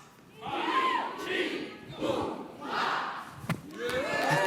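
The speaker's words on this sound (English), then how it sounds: "So give me that cheer one last time." A live crowd shouts a loud collective cheer in repeated surging waves, with a sharp thump near the end.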